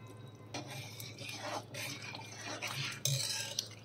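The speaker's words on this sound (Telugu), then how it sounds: "ఈ పోపుని సాంబార్లోకి యాడ్ చేసుకుందామండి." Tempering is tipped into a pot of sambar and stirred in, making soft liquid sloshes, drips and a ladle scraping against the pot, quiet and close with a sharper clink near the end.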